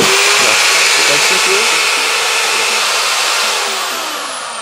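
A drilling machine runs after being switched on by a Wi-Fi smart remote control, giving a loud, steady, high-pitched whirring drone that eases off slightly toward the end.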